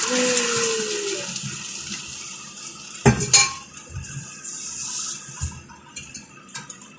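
Water is poured into a cooking pot on the stove for sinigang with chicken wings, a soft splash and trickle with a sharp clank of pot or utensil partway through, close up with no talking.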